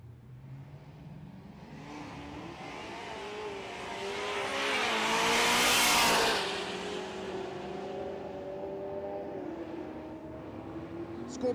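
A 6th gen Camaro launching down a drag strip in a single pass, its engine rising through rapid gear changes as it roars past close by, then fading into the distance.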